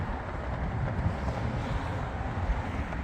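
Wind rushes past the microphone outdoors beside a 2024 Chevrolet Silverado LT 2500HD Crew Cab, a steady loud rumble with slight gusting and no speech.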